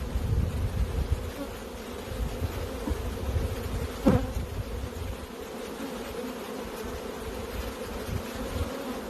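Honey bees swarm around a brood frame pulled from a Michigan hive, a dense, steady buzzing drone that fills the whole stretch at close range with no voices.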